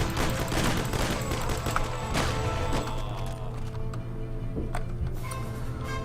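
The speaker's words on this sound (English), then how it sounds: "Now I need to shoot this guy up here, and take his gun, and shoot the guy over there, shoot the guy here, shoot the guys in here" Rapid bursts of gunfire from shooting enemies in the crime game Mafia, dense and fairly loud, with repeated sharp shots layered over a steady low game hum and no talking.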